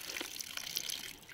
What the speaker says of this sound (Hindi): ये देखिए पहाड़ में पानी का सोर्स, ये हमारा फ़िल्टर पानी होता है।